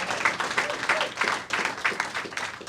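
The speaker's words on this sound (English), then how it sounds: "We should clap for efficiency." Audience applause at a South Carolina public event, moderately loud with distinct bursts of clapping in an uneven rhythm, briefly rising and falling.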